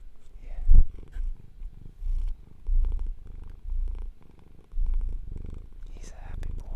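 A cat purrs close up in low rumbling bursts that rise and fall with each breath, steady and fairly loud.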